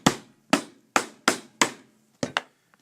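A wooden display base is tapped down onto dowels in five evenly spaced sharp knocks, then two quicker ones close together, each crisp and near with quiet gaps between.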